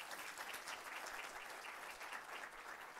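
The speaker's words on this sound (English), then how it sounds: "I think they deserve a warm round of applause," Audience at a tax summit applauding a panel, sustained dense clapping from a hall crowd, steady and even throughout, heard at a distance and fairly soft.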